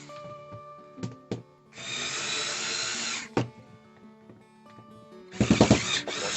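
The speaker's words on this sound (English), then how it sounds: "So we've got 5 screws here. A little bit rusty but not too bad. Let's loosen them up" Slightly rusty screws on a set of horse clippers being loosened with a power driver: several short whirring bursts broken by clicks and knocks, close and fairly loud.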